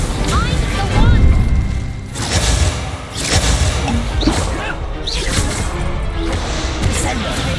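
Hogwarts Legacy combat with Confringo and Expelliarmus spell blasts, repeated booming crashes and whooshes in a steady barrage across the stretch, with a player shouting spell names over them.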